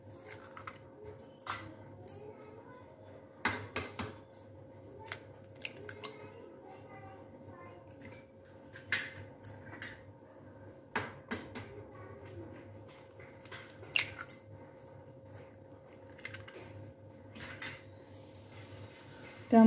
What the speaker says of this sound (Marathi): त्यामध्ये आपण अंडी फोडूया। 3 अंडी आहे ती आपण फोडूया।